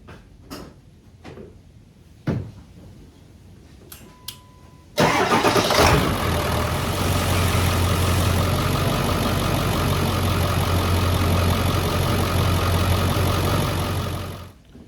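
A few clicks and knocks, then the 7.3 Powerstroke diesel engine of a Ford F250 pickup cranks and roars to life, settling into a steady, loud idle that continues until the end.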